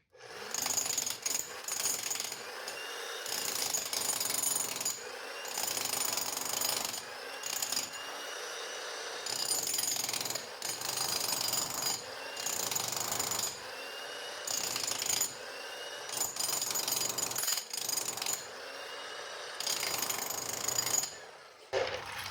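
A Vevor 3500W electric jackhammer chips into 4,000 psi concrete along a sawn cut, firing in loud, close, sustained bursts separated by short pauses.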